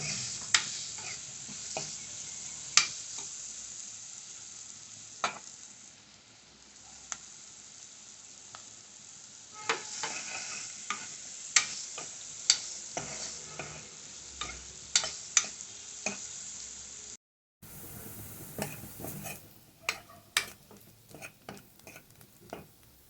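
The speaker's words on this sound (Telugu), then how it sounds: "ఇప్పుడు మనం ఉల్లిపాయ ముక్కలు తీసుకుని ఇంక వేయించుకోవాలి వాటిని మొత్తం బాగా తిప్పేసి ఇంకా వేయించాలి" Onion pieces frying in a pan for a Mangalore cucumber and tomato curry, a continuous hiss of sizzling oil punctuated by frequent sharp scrapes and taps of stirring, close-up, with a brief break near the end.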